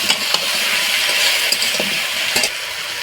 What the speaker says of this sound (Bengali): পেঁয়াজটা খুব ভালো করে ভেজে নেব।